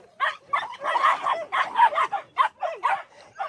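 Puppies yip and bark in quick, uneven bursts close to the microphone, a rapid string of high excited calls with short gaps between them.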